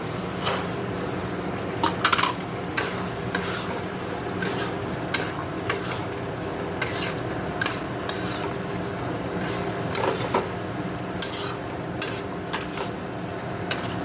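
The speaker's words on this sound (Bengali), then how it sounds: "এবার আমি মটরগুলো দিয়ে দেবো।" Peas tossed into spice paste frying in oil in a pan give a constant close sizzle, with regular sharp clacks and scrapes of a spoon stirring against the metal throughout, no voices.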